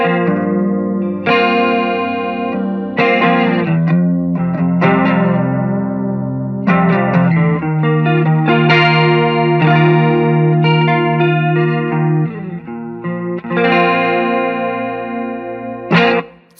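Electric guitar through the chorus setting of a Flamma FC05 multi-modulation pedal, playing a steady sequence of shimmering, slightly wavering chords and notes, loud and continuous with no talking.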